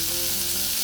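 Small potatoes frying in hot oil for aloo dum curry, a dense continuous close sizzle with no talk.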